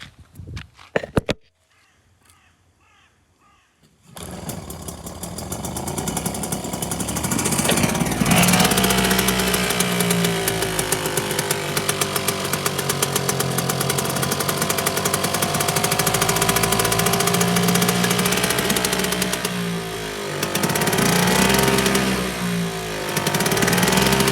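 A restored British Seagull 40 Plus outboard motor, freshly cleaned points and painted flywheel, is cranked with a short pull, then fires into a loud, rapid, rattling two-stroke run that holds steady for about twenty seconds with a brief dip in revs.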